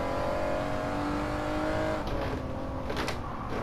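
In Gran Turismo 7, a race car engine revs hard under heavy throttle during a four-wheel drift, a loud steady roar with a brief rising whine near the end.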